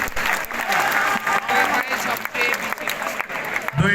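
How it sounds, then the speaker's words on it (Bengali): An audience at a student award ceremony breaks into applause, a dense continuous burst of many hands clapping, close and loud, with a voice speaking over it near the end. "সবাই জোরে করতালি"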